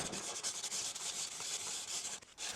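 Brisk back-and-forth scraping of sandpaper rubbed by hand on a high-carbon steel knife blade, a fast rhythmic gritty rasp that continues without pause.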